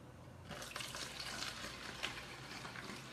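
Water is poured steadily into a container in a home kitchen during a recipe demonstration, a soft continuous splashing stream lasting a few seconds, quiet and close.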